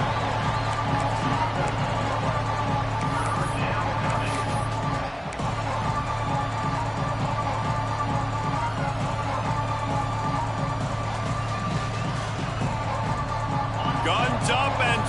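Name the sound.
crowd noise at Texas Tech football game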